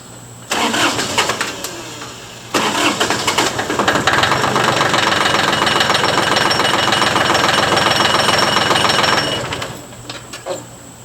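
A Ford 1220 compact tractor engine runs loud and close, its steady mechanical clatter rising in intensity as the 3-point hitch lifts, then dropping away near the end.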